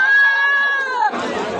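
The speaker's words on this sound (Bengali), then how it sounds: "আরও কিছু পাঠা দেখাই, ছোট মাঝারি সাইজের।" A goat bleats at a busy livestock market in Natore, one loud, near, drawn-out wavering cry, followed by crowd noise.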